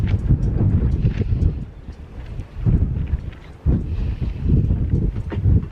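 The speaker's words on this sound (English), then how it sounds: "It's so windy though." Strong wind gusts outdoors in a garden, buffeting the microphone with loud low rumbling surges that rise and fall in waves.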